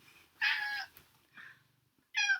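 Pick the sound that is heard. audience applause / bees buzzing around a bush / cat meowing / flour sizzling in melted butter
cat meowing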